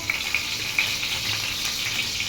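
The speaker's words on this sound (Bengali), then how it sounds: "প্রথমে আমি তেল গরম করে নিয়েছি, তার মধ্যে দিয়ে দেবো তেজপাতা।" Bay leaves dropped into hot oil give a steady, close crackling sizzle that holds evenly throughout without any speech.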